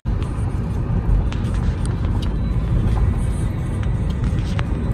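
A car driving on the road between Mumbai and Devgad, heard from inside as a steady, loud low rumble with faint higher road noise throughout.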